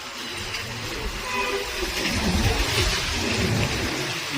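Heavy rain pouring steadily at the Rajkot bus depot, a dense, continuous roar of downpour close by that swells slightly midway, with no talking.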